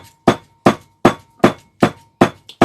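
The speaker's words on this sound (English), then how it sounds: "And I'm going to pound everything together." A pestle pounds chickpea snack ingredients in a mortar with seven loud, evenly spaced strikes about 0.4 seconds apart, each a sharp thud that decays quickly, with no talking.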